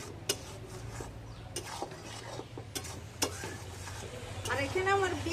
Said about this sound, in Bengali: পাতিলেবুর রসটা দিয়েও বেশ সুন্দর করে নেড়ে চেড়ে মিশিয়ে দিচ্ছি